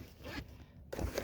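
A backpack zipper is pulled in two short, quiet zips separated by a brief pause, soft and near, while someone goes through the pack.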